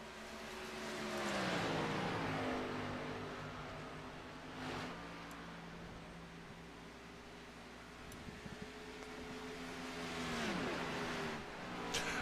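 Race car engines in an iRacing High Slide Racing Cup Series event, a droning roar that rises and falls as the car lifts off at a corner entrance, with a passing car sweeping by, steady and moderately loud without talk.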